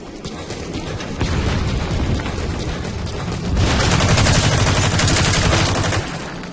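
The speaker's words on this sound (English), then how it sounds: "Dude, I knew I heard bullets, man." Gunfire during an online match of Metal Gear Online, loud, continuous automatic bursts that swell and grow denser midway, with rumbling booms underneath and no talking.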